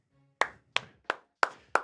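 Five distinct, sharp hand claps close to the microphone, spaced roughly a third of a second apart in a steady rhythm, each crisp and separate against near silence.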